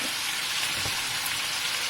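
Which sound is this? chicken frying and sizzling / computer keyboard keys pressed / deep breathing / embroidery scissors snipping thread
chicken frying and sizzling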